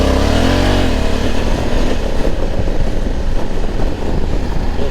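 Honda Africa Twin 1100 motorcycle ridden on the Paris périphérique, a loud continuous engine drone with rising and falling revs, heard close over wind rush.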